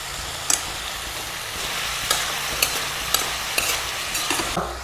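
Ivy gourd frying with turmeric and salt is stirred in a pan, with a steady sizzle under a series of sharp scraping and clinking strokes from the spoon at irregular intervals.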